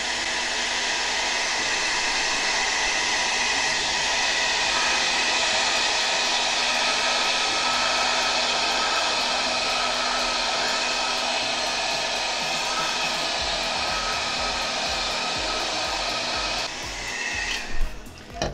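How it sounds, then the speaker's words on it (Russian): A hair dryer blowing at a steady, loud whoosh for a long stretch, then its tone shifts and it clicks off near the end. "Итак, осталось у нас проверить фен."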